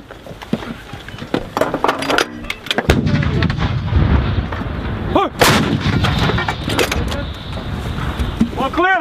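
Artillery guns of the U.S. Army 4-319 fire during the Dynamic Front exercise, with two heavy, booming blasts standing out over constant rumbling field noise while soldiers talk nearby.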